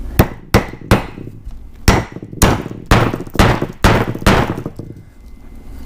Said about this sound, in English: if you hammer it in, let's hammer it, and you want to hit it hard